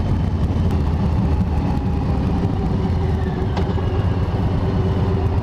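A motorcycle engine drones steadily and loudly from a rider's position, with a constant low rumble and wind noise and no break.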